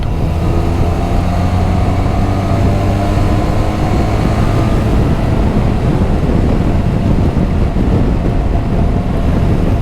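Benelli TRK 500 twin-cylinder motorcycle pulling hard in fifth gear, a steady loud engine drone with heavy wind rush over the microphone throughout.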